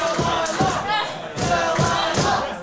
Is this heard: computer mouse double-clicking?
no